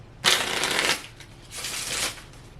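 Cards drawn and flicked from a deck, two close, crisp papery swishes about a second apart, fairly loud with no talking.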